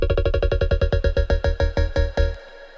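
A Serum synth patch with a plain triangle wave and no effects plays a fast run of about twenty evenly spaced, bright tonal notes. It sounds loud and close, then cuts off abruptly into near silence.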